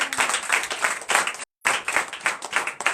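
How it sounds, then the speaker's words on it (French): A church congregation applauds loudly at a testimony service in Comè, Benin, with dense clapping that cuts out for a split second and then resumes as strongly. "Donnez l'acclamation à Jésus."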